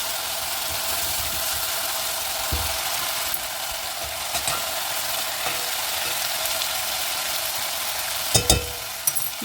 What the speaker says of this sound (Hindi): इसको मसाले के साथ थोड़ा सा और भून लें,